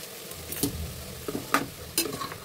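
A sprouts and egg curry is stirred in a pan, giving a soft simmering sizzle with about four distinct scraping strokes of a spoon at irregular intervals, close-up and without any talking.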